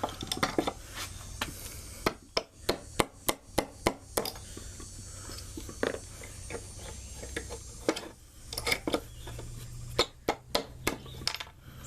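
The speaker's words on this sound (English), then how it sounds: "Go and pop them out with my hammer" Sharp metallic clinks and taps from a hammer prying nails out of wood while a solar panel frame is dismantled, coming in quick irregular bursts, close and fairly loud, with no talking.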